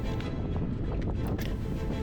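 Wind buffets the microphone in a low, continuous rumbling roar with brief gusty swells, loud and close, no voices, while fishing from a kayak outdoors.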